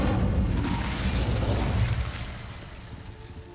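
Incendio fire spell cast in Hogwarts Legacy, a loud whooshing burst of flame that roars for about two seconds and then fades into a lower rumble.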